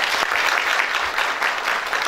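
Audience at a poets' society gathering applauding, a thick, continuous burst of many hands clapping at close range, loud and even for a couple of seconds.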